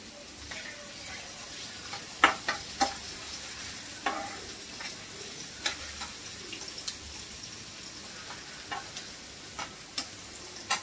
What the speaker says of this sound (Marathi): आता आपण एक कढीपत्ता टाकूया.